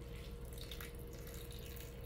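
Water drains off cooked cauliflower in a soft, continuous trickle, faint and even throughout with no talking.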